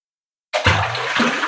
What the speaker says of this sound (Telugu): మీకు కనిపించడం కోసం ఒక రాయేస్తున్నాను చూడండి